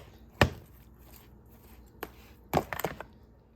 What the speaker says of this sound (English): And then you're going to just mix it all up,